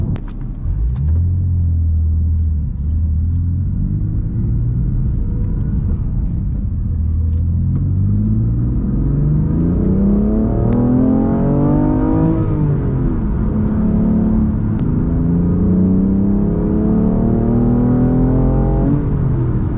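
A previously flood-damaged BMW M3 engine roars close by as it revs up through two hard full-throttle accelerations, pitch climbing steadily, then dropping back between pulls.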